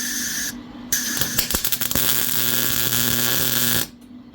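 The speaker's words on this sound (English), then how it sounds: "So you don't need to make a perfect weld, you just want to stick it" Tack welding metal while fabricating a Columbia River anchor system: an electric arc starts with a few crackles, holds a steady buzzing hiss for roughly three seconds, then cuts off abruptly.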